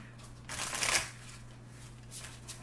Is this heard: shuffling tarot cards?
yes